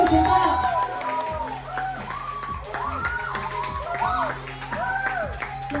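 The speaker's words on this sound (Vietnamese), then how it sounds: "một tràng pháo tay cho người nổi tiếng của chúng ta." Audience clapping and cheering at a press conference launching the film Lật Mặt 6, a steady crowd roar with music and voices layered over it throughout.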